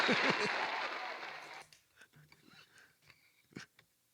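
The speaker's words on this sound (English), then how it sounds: "Damn, I love that applause effect." A short burst of canned applause effect at a virtual open mic, loud at first then cutting off abruptly, followed by faint breaths and small mouth noises.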